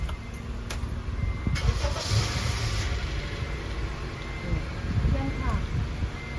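A car engine cranks and catches, then settles into a rough running rumble outdoors under wind noise as people talk nearby.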